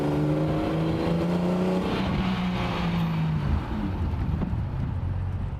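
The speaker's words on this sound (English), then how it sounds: "But instant throttle response, and it's not even warmed up yet." A 1957 Jaguar XKSS sports car engine revs hard while still cold, a loud, close, sustained roar with rising and falling harmonic sweeps and no talk over it.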